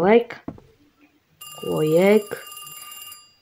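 A telephone rings in The Pizza indie horror video game, a bright, steady electronic tone lasting a couple of seconds, heard under and after a person talking.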